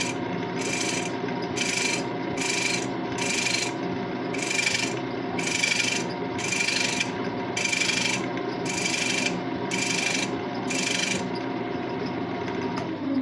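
A chisel chases a thread into wood spinning on a lathe, giving a steady rasping rub in regular pulses of about two per second over the constant hum of the lathe.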